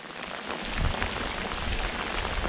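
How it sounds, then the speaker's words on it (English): Steady rain pours down during a crappie fishing outing, a dense, continuous hiss of drops striking the surroundings, loud and unbroken, with no voices. "My goodness, is it raining."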